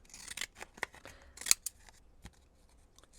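Scissors snip a deckle edge into a sheet of paper, a run of short crisp cuts with small pauses, one sharper snip midway, close and clear with no talking.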